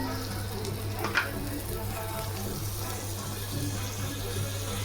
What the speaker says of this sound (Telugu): ఇప్పుడు మనం బటర్ వేసుకుందాం.